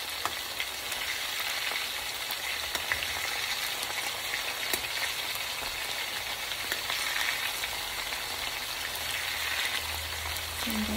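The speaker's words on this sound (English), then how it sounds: "Just keep flipping them over. Try not to squeeze too hard so the meatball won't fall apart." Meatballs for albondigas soup sizzling and frying steadily in a pan, a constant loud crackle with fine spattering pops throughout.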